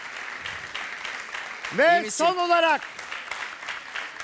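A game-show studio audience claps steadily throughout, while a voice speaks briefly over the applause in the middle.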